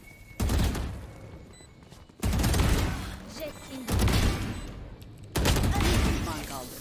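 Gunfire in the shooter game Valorant comes in four loud, dense bursts of rapid shots separated by short gaps, with players talking over them.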